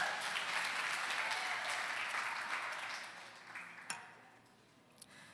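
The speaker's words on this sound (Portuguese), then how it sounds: "Aplaude ao Senhor," A church congregation applauding during a sermon: dense, loud clapping from many hands that gradually thins and fades, ending with a few scattered claps.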